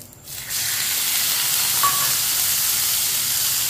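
Chicken pieces drop into a hot pan with garlic and burst into a loud, steady sizzle that keeps going, with a brief stirring scrape partway through and no voices.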